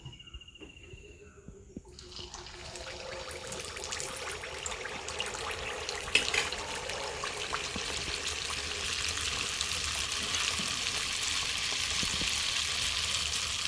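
Batter is poured into hot coconut oil and bursts into a loud, bubbling sizzle that starts abruptly after a quieter moment and keeps crackling and spitting steadily, growing slightly fuller toward the end.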